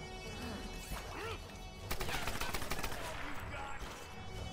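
Gunfire in the Tomb Raider video game: a burst of loud, sharp shots crackling near the two-second mark over a busy game backdrop of music and effects, with a faint voice present.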